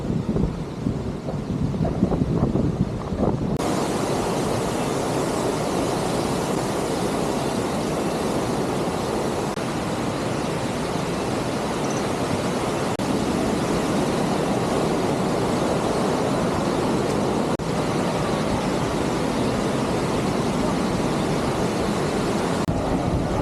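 A waterfall at Attappadi roars in a steady, loud, unbroken rush of falling water close by, softer and more uneven for the first few seconds before settling into a dense, constant wash with no voices.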